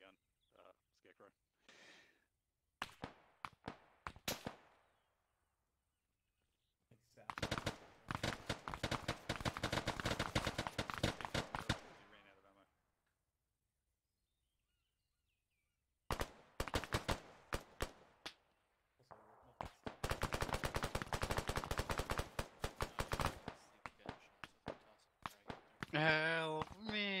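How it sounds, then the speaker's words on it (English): Minigun fire in a military shooter game, two long sustained bursts with shorter shots between and near-silent gaps, with voices over parts of it. "We got the maniac with the minigun, Scarecrow."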